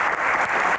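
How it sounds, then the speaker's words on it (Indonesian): A studio audience at an Indonesian talk show applauds, a brief, loud, steady wash of clapping with no pauses. "kita berikan tepuk tangan untuk Kang Maman"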